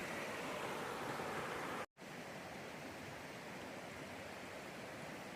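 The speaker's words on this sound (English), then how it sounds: "let's head across the river" River water rushes steadily around someone wading barefoot across it on the Appalachian Trail, a dense broadband flow heard close and unbroken apart from a brief gap.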